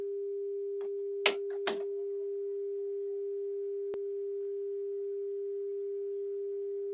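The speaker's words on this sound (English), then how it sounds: "that's 400 hertz, by the way, the sine wave" A steady 400 Hz sine test tone plays back from a Sony SLO1700 Betamax test tape, continuous and clean, with a couple of brief clicks of tape-deck handling near the start.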